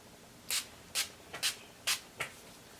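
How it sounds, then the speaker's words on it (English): Five quick, close hissing spritzes of Wet n Wild Photo Focus Natural Finish setting spray come at a steady, slightly uneven rhythm. Each burst is short and soft, and there is no talking. "And now we spritz."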